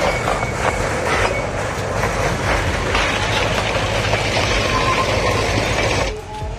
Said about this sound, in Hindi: ये जो है टॉय ट्रेन है।